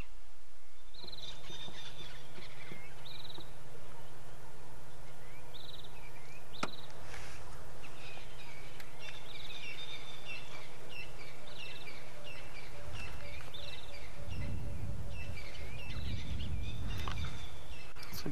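A cuckoo calls repeatedly during a sunrise safari in the African bush, clear whistled notes in a steady series over a constant low drone, with a few other birds and rustling late on.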